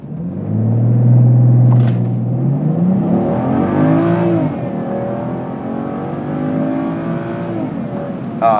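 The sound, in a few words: BMW 335i xDrive accelerating hard during a 0-60 run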